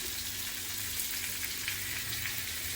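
Black creek fish frying in a pan, giving a steady, close, continuous sizzle of hot oil that never lets up, with no voices.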